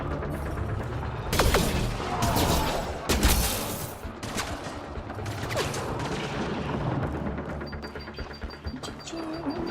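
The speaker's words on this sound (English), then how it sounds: "Must be a turret." Turret gunfire in Mass Effect: Andromeda, with loud bursts of rapid shots and booms early on, then continuous dense combat noise.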